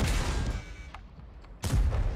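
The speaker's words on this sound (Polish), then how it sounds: "Grzesiek, to był ważny strzał." A tank gun firing in World of Tanks: a loud, heavy blast opens the moment, fades into a quiet stretch with faint clicks, then a second booming shot lands near the end.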